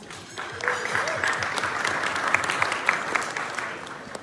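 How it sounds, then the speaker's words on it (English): A luncheon audience applauds itself, steady clapping from a room of people building and holding, moderately loud with faint voices underneath. "Round of applause for yourselves."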